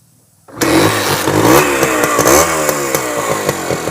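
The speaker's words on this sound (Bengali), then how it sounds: "এক কিকে স্টার্ট" A Japanese H100A CDI motorcycle engine catches on a single kick after brief quiet, then runs and revs loudly nearby in an uneven, throaty idle.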